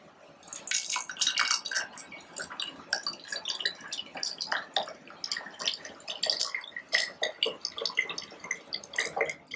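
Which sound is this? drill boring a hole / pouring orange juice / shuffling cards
pouring orange juice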